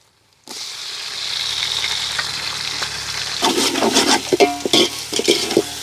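Ginger garlic paste and chopped tomatoes hitting hot oil for a fish biryani, a sudden loud sizzle that holds steady, then stirring scrapes and clinks over the frying, close and without talk.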